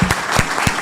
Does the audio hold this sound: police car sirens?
no